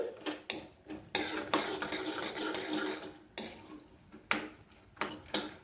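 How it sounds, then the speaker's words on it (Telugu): Dried moong dal vadiyalu fry in a pan while a ladle stirs and scrapes them, with sharp repeated clacks and clatters over a steady frying hiss. "ఈ విధంగా గరిటెతో తిప్పుకుంటూ వేయించుకోవాలండి, లేదంటే మాడిపోతాయి."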